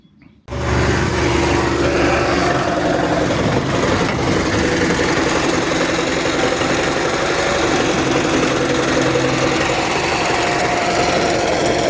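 A tractor engine idles with its exhaust pipe removed entirely, giving a loud, steady, knocking diesel throb that runs unbroken from just after the start to the end, with no talk.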